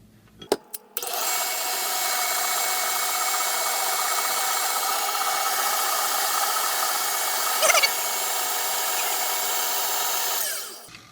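An electric mixer whipping cream whirs steadily for about ten seconds after a couple of clicks, a loud continuous motor drone with a brief rattle midway.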